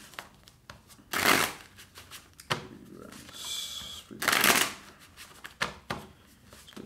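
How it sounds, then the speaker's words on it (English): Tarot cards being shuffled by hand, several bursts of crisp riffling in separate rounds, close and fairly loud, with quieter handling noise between them. "Let's get five shuffles and dive straight into it."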